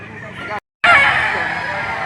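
Young rooster (stag) at a poultry market in Lipa, Batangas, giving a loud close crow that breaks off briefly and then carries on in a drawn-out strained call.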